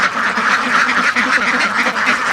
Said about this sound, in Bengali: হাঁসগুলোকে খেতে দেব